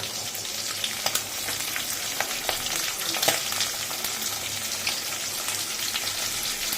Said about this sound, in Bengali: মাছের মাথাটা ভেজে তারপরে বাঁধাকপিটা করব